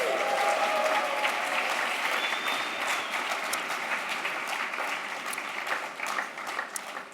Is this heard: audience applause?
yes